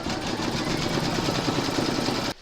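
An embroidery machine stitches round 7 of a patriotic in-the-hoop bunting piece, a fast, even mechanical chatter of needle strokes that runs steadily up close for a couple of seconds and then stops abruptly.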